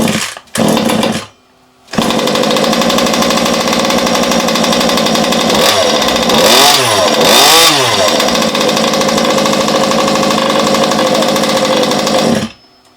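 A Rofun T5 gasoline RC off-road car engine running steadily after a pull start, loud and close with a buzzing two-stroke drone, rising briefly in two revs midway before cutting off.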